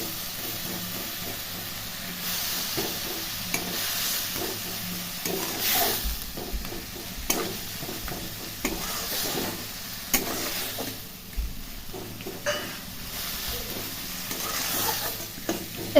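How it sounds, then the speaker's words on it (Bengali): Cauliflower masala frying and being stirred in a pan, a steady sizzle and hiss with repeated spoon scrapes and knocks against the pan, close up. "তারপর এটাকে একটু ভালো করে ভেজে নিতে হবে।"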